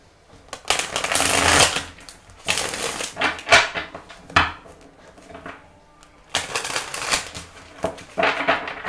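Tarot cards being shuffled by hand, close and loud, in several separate riffling bursts with short pauses between them and no speech.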